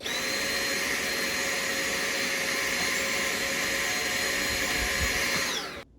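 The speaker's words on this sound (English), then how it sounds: "You could take a vacuum and try and clean this out." A vacuum cleaner whines steadily and loudly at close range while cleaning the air filter of a Midea U-shaped window air conditioner, then cuts off abruptly at the end.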